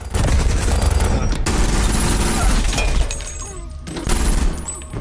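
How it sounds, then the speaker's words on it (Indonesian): Gunfire in a tense action-movie scene, a man grabbing a gun from under a table to shoot another, heard as loud dense bursts with shattering crashes and booms throughout, briefly dipping then surging again. "Jacob berhasil mengambil senjata di bawah meja dan menembak Nathan dan akhirnya Nathan mati."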